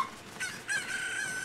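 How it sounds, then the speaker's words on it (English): A chicken in Zelda: Tears of the Kingdom gives a few near, clear clucks rising into a drawn-out crowing call over quiet game ambience. "Come here, you chicken."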